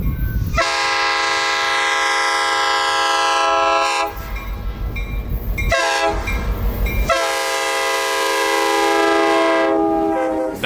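U.S. Sugar Santa Express train passes close by, its multi-chime horn blaring in long sustained blasts with brief breaks, over the heavy rumble and clatter of rolling cars; no talking.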